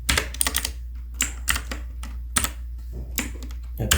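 Computer keyboard typing while Java code is entered, with bursts of quick clattering keystrokes separated by short pauses, close and fairly loud over a low steady hum.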